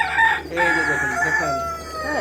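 A rooster crows loudly and close on a rooftop where chickens, ducks and pigeons are kept, one long drawn-out call filling the moment.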